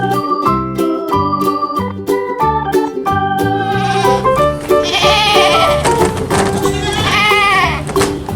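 A farm goat near a nearly empty food bin lets out several wavering bleats, loud and close, mixed with a busy layer of background sound.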